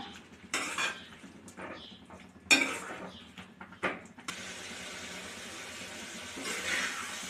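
Brinjal being gently stirred in a cooking pot, several separate metallic scrapes and clinks of a spoon against the pot with quiet gaps between, close by, followed by a low steady hiss.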